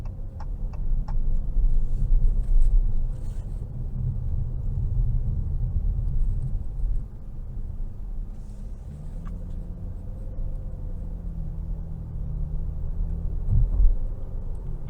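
Inside a 2022 Dodge Challenger GT Blacktop on the road under light throttle, a low, steady engine and road rumble holds throughout with occasional faint ticks and clicks, fairly quiet, and no one talking.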